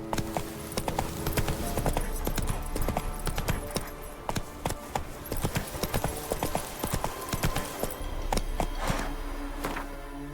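Roach the horse trotting in The Witcher 3, a steady run of close, crisp clip-clopping hoofbeats over game music and ambience, with no talk.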